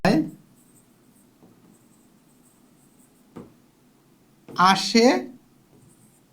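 Writing during a Bengali math lecture on sets, heard as faint, sparse scratches and taps between a sharp opening knock and a short burst of the lecturer speaking.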